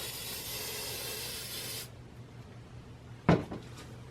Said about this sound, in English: I'm going to spray the trees one more time with some workable fixative